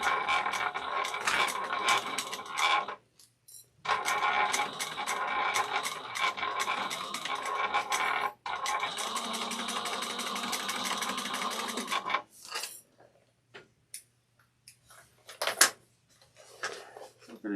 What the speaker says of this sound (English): We're going to bring this over and we're going to sew this 1/4 of an inch